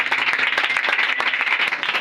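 Church congregation clapping steadily and loudly through a French-language prayer and deliverance service, a dense continuous patter of many hands close by.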